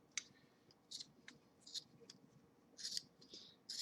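Several short, crisp snipping bursts from scissors cutting felt, spaced irregularly, fairly close and quiet, with no talking.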